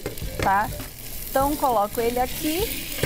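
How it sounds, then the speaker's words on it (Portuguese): Cubes of pork leg sear in a hot pan with a steady sizzle and frying crackle throughout, as someone talks over the cooking. "Aí agora nós vamos começar selando o pernil, tá?"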